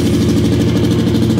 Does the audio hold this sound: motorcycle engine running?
yes